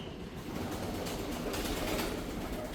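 Pigeons in a pigeon loft, a steady close hum of soft cooing and fluttering that fills the whole stretch with a dense, even texture.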